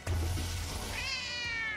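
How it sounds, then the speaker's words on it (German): A cat-like creature meows in the video game Nexomon Extinction, one drawn-out, rising and wavering cry over a dense, loud game soundtrack. "Miau."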